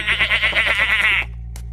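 A single long, wavering goat bleat rings out loud and close for about a second, then cuts off abruptly, leaving a low hum behind in a comedy sketch setting.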